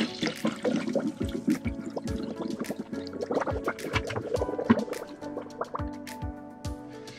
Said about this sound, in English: I'm gonna pour some coolant in it